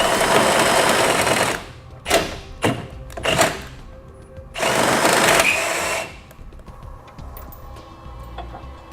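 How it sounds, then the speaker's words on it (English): A power drill with a 3/8 bit enlarging holes in a metal frame, whirring in several loud bursts of varying length, biting and whining as it cuts, with brief pauses between runs and a quieter tail. "We're going to enlarge them using a 3/8 drill bit"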